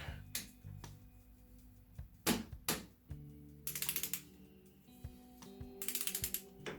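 A wrench ratchets as a Harley-Davidson transmission bolt on a 2007 FLHTCU is retightened to 35 foot-pounds. Quiet, close clicking comes in two short runs of rapid pawl ticks with scattered clunks between them.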